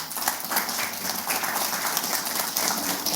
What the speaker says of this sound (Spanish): Sí, efectivamente, es un aplauso por educación.